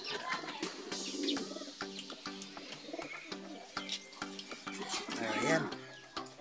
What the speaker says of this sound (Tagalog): Ito nga yan mga kalapatids, kay Boss Palos.